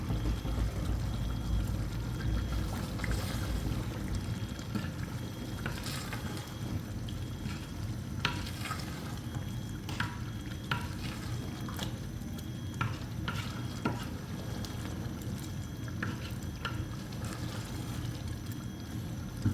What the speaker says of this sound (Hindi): इसे अच्छी तरीके से मिक्स करेंगे।